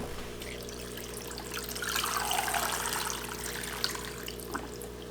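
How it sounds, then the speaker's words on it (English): Water pours steadily over peaches in a pot to cover them, a moderately loud rushing splash that swells in the middle and then settles, with no talking. "and I'm going to cover this with water."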